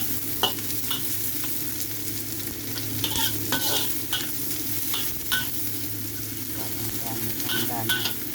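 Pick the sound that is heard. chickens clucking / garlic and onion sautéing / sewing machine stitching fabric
garlic and onion sautéing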